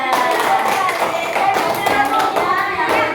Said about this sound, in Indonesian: Pakai tepuk tangan untuk kelompok 3.